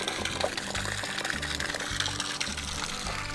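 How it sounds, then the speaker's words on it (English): About six gallons of water gush from an RV water system through an opened drain valve, making a steady close splashing flow with low rhythmic gurgling pulses. "open this valve up here. And here comes 6 gallons of water."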